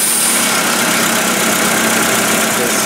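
A Nissan forklift engine runs loudly and steadily up close at a rough idle with a slight miss, a dense continuous mechanical drone throughout.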